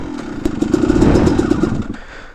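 A dirt bike engine runs with a loud, close, rough chugging that swells briefly, then abruptly dies as it stalls, leaving near silence at the end.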